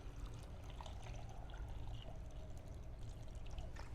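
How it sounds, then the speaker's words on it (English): Water pours over chunks of yuca in a container until they are just covered, a faint, continuous trickling and splashing that holds steady throughout with no talking. "I'm going to add water to cover the yuca, just enough to cover."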